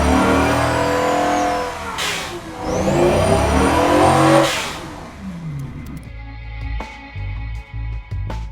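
A 3200-horsepower car engine in a video game revs loudly and close, climbing in repeated surging sweeps before easing off into lower, choppier engine tones and brief clicks near the end.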